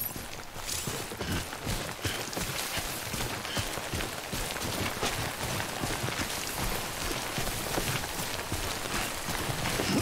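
Rain falling in the video game Death Stranding, a dense continuous patter of drops with rapid irregular ticks over a steady hiss, moderately loud and alone without speech.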